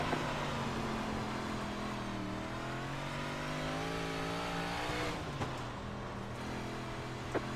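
Race cars in a racing video game roar around a track, a loud steady engine whine with shifting revving pitch and brief tire squeal, heard alone without talk.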